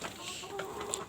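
Young local-breed chickens cluck softly in a short burst, a few faint calls rising over low background noise with no other sound prominent.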